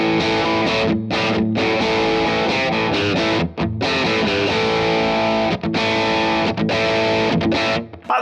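Mvee Ebb electric guitar played straight into a Vox AC30 with the gain cranked and no pedal: loud, heavily overdriven chords and riffs with brief stops between phrases, no talking.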